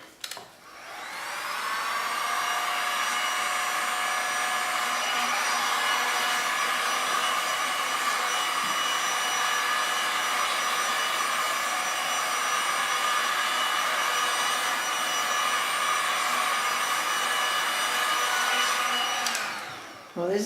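A heat tool blows steadily over a resin art pour for nearly twenty seconds, a loud, even whooshing hum that starts up, holds constant and then cuts off.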